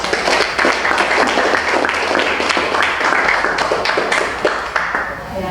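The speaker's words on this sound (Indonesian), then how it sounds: "Mari kita memberikan aplaus untuk Bapak" A school audience gives the principal a dense, loud round of applause, many hands clapping steadily for several seconds and then tapering slightly at the end.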